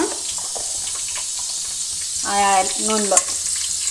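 Bay leaves and cardamom pods fry gently in oil and ghee, a soft steady sizzle close by, with a short hum of voice in the middle.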